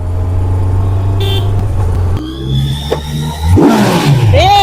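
Kawasaki Z900 motorcycle engine, steady low idle then revving up with rising and falling pitch sweeps, loud and close, with a brief horn-like tone.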